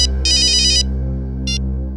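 A phone rings loudly with a rapid trilling electronic tone in two bursts, a longer one followed by a short one, over a steady low dramatic hum.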